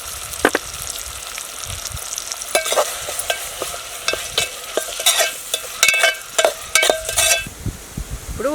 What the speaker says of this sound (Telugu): వీటిని ఫ్రై చేసుకోవాలి బాగా.